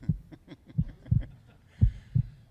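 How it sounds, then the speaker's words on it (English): A heartbeat thumps in slow, paired beats, several in a row, close and muffled with nothing else over it. "we need to listen to this, and this heartbeat never lies"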